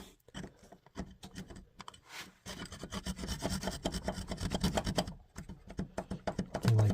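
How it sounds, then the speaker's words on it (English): A hand saw cutting a wooden peg set in a pre-1900 golf club, with close, rhythmic rasping strokes that start hesitantly, then settle into a steady, quickening back-and-forth. "I like cutting with a saw."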